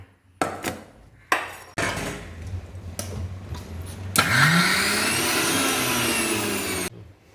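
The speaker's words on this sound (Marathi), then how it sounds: "आतां आमी मसालो मिक्सींत करून घेवया." A kitchen mixer grinder chops Byadgi red chillies and turmeric powder into masala: a few short pulsed bursts, then a steady whining run lasting several seconds before cutting off, with no talk.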